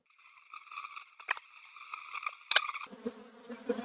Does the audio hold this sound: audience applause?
no